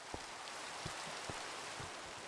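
Rain falls in the Minecraft video game, a faint, even hiss of steady patter with a few soft, scattered drip-like taps, quiet and continuous with no voices.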